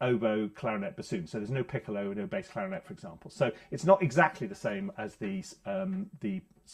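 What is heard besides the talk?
No everyday noises stand out.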